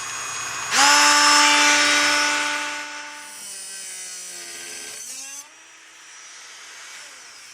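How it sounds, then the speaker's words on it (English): A power tool's cutting disc grinds into a 1/16 inch thick aluminum front intake grill on a Corsair 900D/350D PC case, a loud high-pitched whine that starts abruptly, drops in pitch under load, then eases to a quieter spin. "these lines are going to be cut with the disc put right on top of the line"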